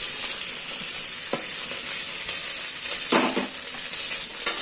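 Vegetable pieces sizzling steadily in hot oil in a pan with garlic paste, with a few brief scrapes of a spoon stirring them, close and continuous with no talking.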